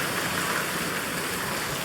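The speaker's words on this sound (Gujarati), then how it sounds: "અત્યારે આમ કેવો વરસાદ તડાબડી ચાલુ થઈ ગયો છે" A downpour of heavy rain drums steadily on surfaces close by, a loud, unbroken wash of falling water with no talking.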